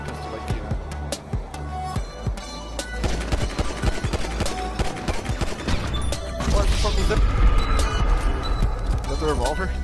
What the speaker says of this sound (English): Is that the revolver? Yeah, it's a revolver.